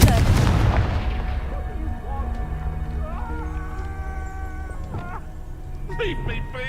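In the Hogwarts Legacy video game, a Confringo fire spell lets out a loud explosive blast at the start. Quieter tonal game effects and chimes follow it.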